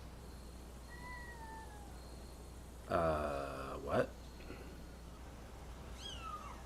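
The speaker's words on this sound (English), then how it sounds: "Oh, kittens. Brand new kittens." Brand new kittens give a couple of short, thin meows from a screen scene, followed by a louder, stretched cry and a brief squeal, over a low steady hum, with a viewer briefly speaking.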